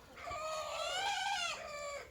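A Pekin or Brahma rooster gives one drawn-out, harmonic call during a scuffle between two roosters, clear and fairly close over faint background noise.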